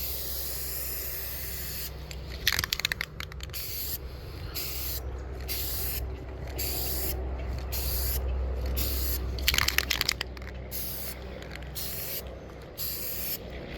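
Spray paint hisses onto a model rocket, an Aerotech Arreaux, in a string of short bursts with brief pauses between them. Two longer, heavier blasts stand out, and everything stays close and fairly loud with no voices.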